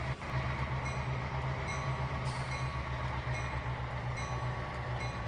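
A freight train hauling empty cars around the Tidewater rail yard in the Trainz 2019 simulator gives a steady low rumble with a faint clickety-clack of wheels, continuous and fairly close throughout.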